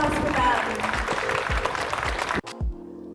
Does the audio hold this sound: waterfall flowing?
no